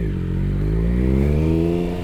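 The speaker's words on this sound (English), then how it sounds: "if I'm in low RPMs and then I just pull on that throttle, hear that sputtering?" A Triumph Daytona 955i's engine sputters unevenly at low RPM as the throttle opens, a close, loud rough drone rising slightly in pitch with a ragged, uneven texture.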